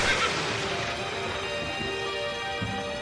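A cartoon horse gives a sharp whinny at the start, followed by a steady, ringing tonal backdrop; no one speaks.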